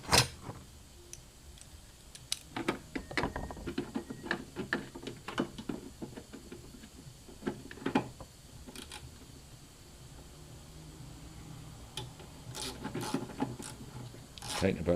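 A ratchet tightens a bolt on a Crown Victoria's windshield washer reservoir, giving bursts of quick, close clicking with short pauses between them.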